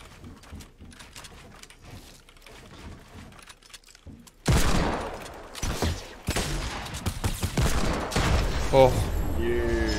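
Shotgun blasts in a competitive shooter video game scrim, sharp loud reports with some earlier lighter gunfire, mixed with game effects and a voice talking over parts.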